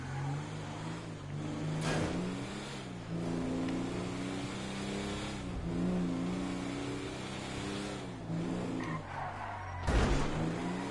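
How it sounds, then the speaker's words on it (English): A car drifts in GTA 5, its engine droning steadily while tires squeal and skid in several sharp bursts, close and loud, with no speech. "Oh, drift!"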